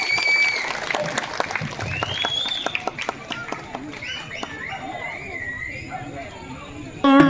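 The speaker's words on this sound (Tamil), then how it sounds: "ஒரு நல்ல கைத்தட்டு கொடுக்கலாம்." At a temple festival chariot celebration, an audience claps along through a folk performance, steady clapping mixed with crowd noise and voices, with a loud burst near the end.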